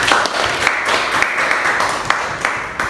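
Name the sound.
applause from a class of children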